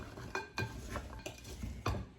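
Gluten-free stuffing bread cubes are tossed with salt and pepper in a bowl, giving soft irregular scraping and light clinks of a utensil, close and moderately quiet.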